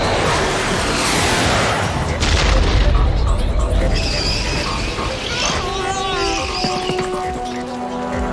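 Missiles strike in an animated Transformers chase through a rock maze, with heavy booming blasts and rumbling debris. A high whine follows as the blasts die away, and faint talk mixes in.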